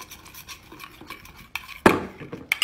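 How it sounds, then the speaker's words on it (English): A spoon stirs a honey mixture in a bowl, giving soft scraping and clinking strokes, then one sharp louder clatter near the end. No one speaks. "And you just stir it up"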